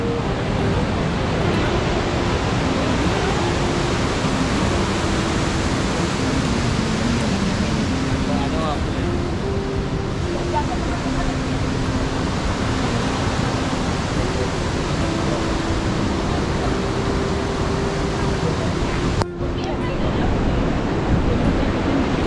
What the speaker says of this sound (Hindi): ये इधर से आ रहा है पूरा वाटरफॉल।